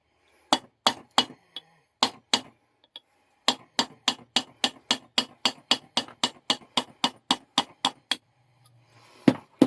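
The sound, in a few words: hammering a punch to drive out a retaining pin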